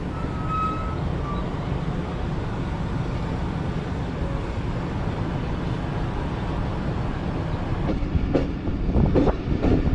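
Steady rumble and rattle of the Khyber Mail train rolling slowly through Lahore city, with faint wheel clatter and a few sharper clanks near the end.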